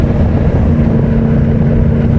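A Yamaha YZF 1000 R1 four-cylinder motorcycle engine cruising in sixth gear at about 3500 rpm and 80 km/h, a loud steady low drone with heavy wind rush and no change in pitch.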